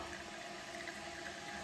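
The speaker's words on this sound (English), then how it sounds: "You can see water starting to flow into the toilet" A toilet tank refills through a Fluidmaster fill valve, giving a faint, steady hiss and rush of flowing water with no voices.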